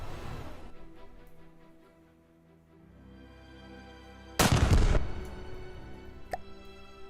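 A big, slow-firing cannon in the Wreckfest racing game booms once with a heavy, modded blast, a sudden loud burst that rings out and decays over about half a second, framed by quieter engine hum and a faint later click.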